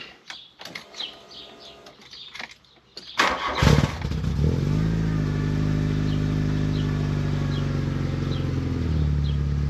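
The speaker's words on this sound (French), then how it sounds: "Dès qu'on met en route, on entend très bien le moteur, on entend très bien la sonorité à l'échappement." A 1987 Volkswagen Scirocco II GTX 16V with a 139 hp engine cranks after some clicks and handling noises, then catches and settles into a steady, rumbling idle with a prominent exhaust note, heard from close by.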